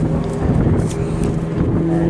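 Aerobatic airplane at the Southport Airshow 2024 with power pulled back as it falls: a steady, loud engine drone with a low hum and wind rumble throughout, distant and continuous.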